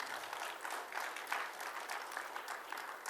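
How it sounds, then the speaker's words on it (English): An audience at a small business town hall claps for visiting bankers, a sustained round of many hands, fairly close and even in loudness, with faint murmuring underneath. "Let us give a big round of applause to them"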